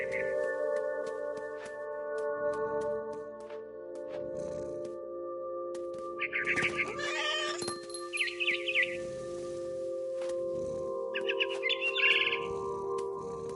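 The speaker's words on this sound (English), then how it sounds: "All I cared about was eating that mama bird." Birds chirping and squawking in a tree in the video game What Remains of Edith Finch, several bursts of high calls over a steady tonal ambient drone and soft low thumps.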